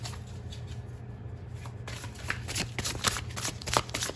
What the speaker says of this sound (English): I shuffle my cards like crazy